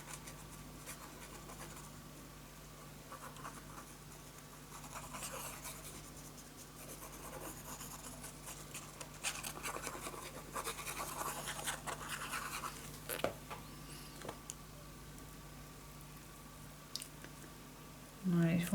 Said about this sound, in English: now I am going to glue this down.